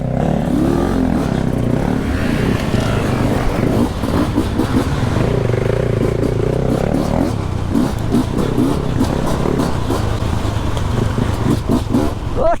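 A large adventure motorcycle ridden by a small boy: a continuous loud engine drone with rising revs and some clatter, heard up close throughout.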